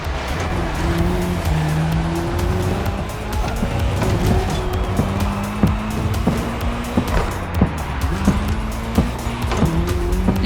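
A race car and a KTM motorcycle compete on a split course in The Crew Motorfest video game, with loud engines revving through rising and falling gear shifts and tires squealing, close and continuous.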